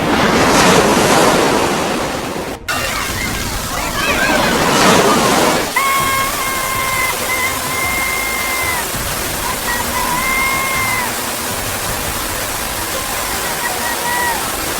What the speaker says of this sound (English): the fury of the water stream is increasing